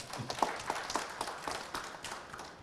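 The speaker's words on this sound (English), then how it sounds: "A round of applause for Mario Wusam." A round of applause at a FIBA Asia Cup 2021 press conference: light, scattered clapping from a modest audience, faint and somewhat distant, fading within a few seconds.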